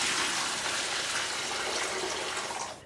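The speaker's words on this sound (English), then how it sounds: "So this is basically a saturated brine that I'm gonna dilute here with some cold water that I've been refrigerating for a couple hours." Cold refrigerated water pours steadily into saturated brine, a broad continuous splashing gush lasting nearly three seconds before stopping abruptly, close and fairly loud with no talking.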